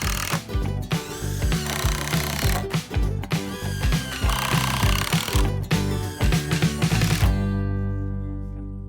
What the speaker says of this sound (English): Just gonna knock that down in to make it snug and then drill it tight.